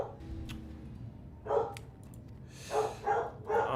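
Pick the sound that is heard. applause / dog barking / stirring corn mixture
dog barking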